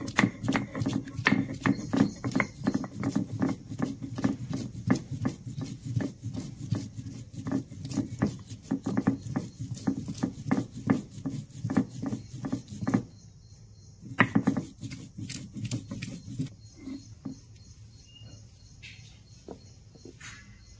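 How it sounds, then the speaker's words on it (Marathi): Chillies, cumin and ginger ground by hand on a stone grinding slab, giving a steady run of rhythmic scraping, rubbing strokes for about thirteen seconds, then scattered softer taps and rubs. "थोडेसे अर्धा चमचा जिरे आणि 1 अर्धा इंच आलं घेतलेलं आहे आणि हे पण मी इथेच वाटून घेणार आहे पाट्यावरती"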